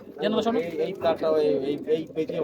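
Soft, throaty pigeon cooing repeats in low, rolling phrases close by, with people talking over much of it.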